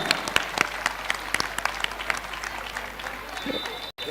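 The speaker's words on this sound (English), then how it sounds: "Can we have a thunderous applause for Adya?" An audience at a girls' high school annual day celebration gives Adya sustained applause, loud dense clapping throughout with faint voices mixed in.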